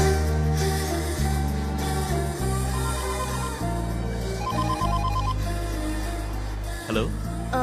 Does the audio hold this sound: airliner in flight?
no